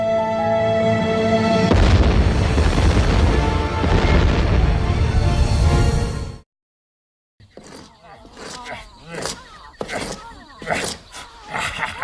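Cartoon bombs exploding inside volcanoes: a long roaring, rumbling blast that fills several seconds, a brief silence, then a rapid string of sharp booms and crackling bursts at close range.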